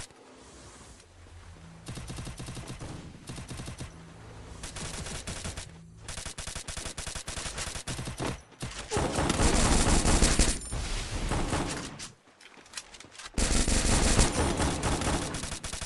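Automatic weapon fire in the Free Fire battle royale game, loud rapid bursts of machine-gun shots in several long volleys separated by brief pauses.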